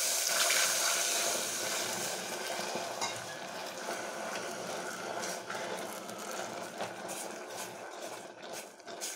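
Stirring a pot of semiya payasam as a litre of milk is poured in, a steady wet scraping and sloshing that runs continuously and fairly close, fading slightly toward the end, with no talking.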